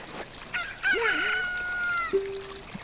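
A chicken in the video game Zelda: Ocarina of Time crows and clucks, a loud rooster call with squawking notes, then a shorter cluck, over a quiet background.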